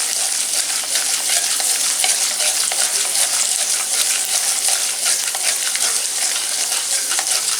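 Peanuts and curry leaves sautéing in a pan for sesame rice give a steady, loud, close sizzle, crackling without a break throughout.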